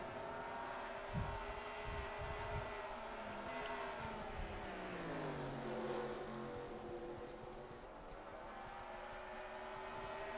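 Simulated NASCAR stock cars racing in NR2003 at North Wilkesboro, a steady layered engine drone with pitch sweeps as cars pass, plus a few low thumps early on, continuous and fairly loud.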